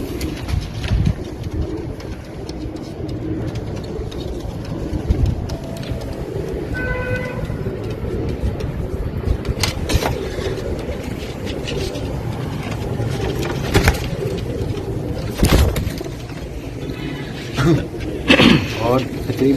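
Pigeons of Imam Din's breed coo softly in a loft, their low, repeated calls mixed with steady ambient noise and a brief tonal hoot.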